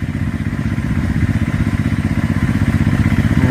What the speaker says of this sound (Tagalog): balango po yung isa ni Mrs. Sempot si JSLT, balango yung kanyang motor.